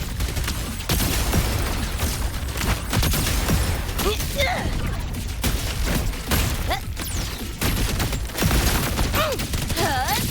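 Grenade blasts and gunfire rattle through a Wuthering Waves battle, dense and loud with repeated booms and bursts over game music and effects, while a voice talks over the combat.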